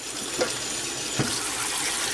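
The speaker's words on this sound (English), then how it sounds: "you want to rinse it with cold water" Cold tap water runs steadily over strained macaroni in a kitchen sink, a continuous close hiss of splashing water with a couple of brief louder gushes.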